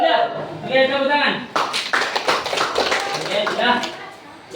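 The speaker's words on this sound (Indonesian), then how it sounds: "tepuk tangan." Students in a physical education lesson burst into a round of hand clapping after a cool-down game; a voice talks first, then sharp, dense claps run alongside chatter.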